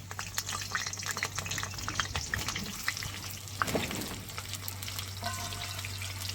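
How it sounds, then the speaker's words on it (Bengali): Potatoes and pointed gourd sizzle and crackle steadily in hot oil in a wok, a dense continuous fry over a low steady hum, with no voices. "একসঙ্গে আলু পটল ভেজে নেব।"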